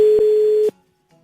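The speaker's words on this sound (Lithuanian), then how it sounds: "Jūs girdit skambutį, ar ne?" A steady telephone ringing tone on a call sounds for about 0.7 seconds as a single continuous, fairly loud tone, then cuts off into near silence.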